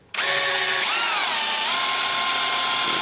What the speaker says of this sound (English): So we're going to drill them right here in this corner